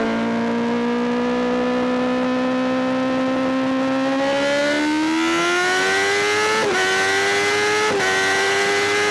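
A stage 2 Kawasaki ZX10R motorcycle with a loud aftermarket exhaust revs hard and close, engine pitch climbing steadily, then jumping in sharp throttle blips, no talking.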